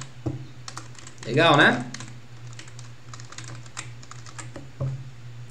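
Computer keyboard typing while editing text in the nano editor, a rapid flurry of close key clicks with scattered single taps before and after, as someone speaks briefly over it.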